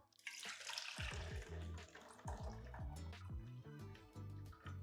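Fresh juice drains from the opened spout of a juicer's catch basin, a wet trickle of drips and splashes that carries on alone, close and fairly loud.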